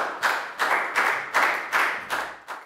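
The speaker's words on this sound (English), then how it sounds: "And a big round of applause," Classroom of young students clapping together in a lesson, about seven distinct rhythmic bursts of claps in quick succession, close and fairly loud.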